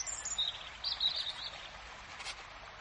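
A blackbird chirps and trills faintly in a few short bursts against a quiet outdoor background.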